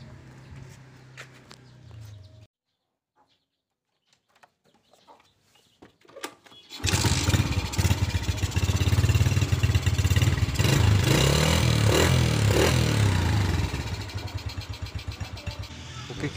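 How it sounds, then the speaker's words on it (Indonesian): A used Suzuki Smash SS motorcycle, registered in Jogja, has its engine started after a quiet pause, then runs loud and close with a steady, rapid putter that eases slightly toward the end, with faint background sounds before the start. "coba kita tes dulu mesinnya"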